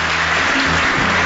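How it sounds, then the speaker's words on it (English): A studio audience applauds a television debate panel on immigration, a steady, loud wash of clapping with no pauses. "a nice round of applause for our panel"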